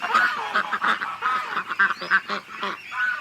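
A group of big ducks, including Muscovies, quacks and honks loudly at close range in a rapid, overlapping run of nasal calls with hardly a pause.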